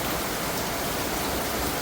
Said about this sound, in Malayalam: മഴ നനയുന്നത് കുഴപ്പമില്ല, പക്ഷേ ഇടിയും മിന്നലും.